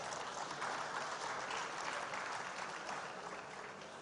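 A conference audience gives a warm round of applause, a dense, even wash of many hands clapping that holds steady for several seconds and eases slightly at the end.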